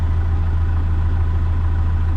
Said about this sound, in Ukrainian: а ну вдалі ходить трактор